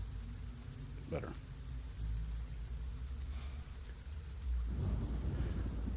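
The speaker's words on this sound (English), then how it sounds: "I'll turn the thunder off." Thunderstorm ambience played during a tabletop role-playing game session: continuous rain hiss under low rolling thunder, with a rumble near the start and a heavier, louder roll toward the end.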